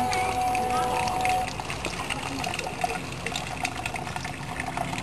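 Water runs from the opened third tap of a simple homemade water filter, a steady trickling flow that carries on for the whole stretch at moderate level, with a voice speaking over it.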